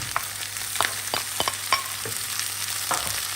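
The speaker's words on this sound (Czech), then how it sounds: "Teď tam přidám to maso. Přidám tam ten česnek." Pork and garlic frying in a pan, a steady sizzle punctuated by frequent sharp clicks and scrapes of a utensil stirring, close and fairly loud, with no talking.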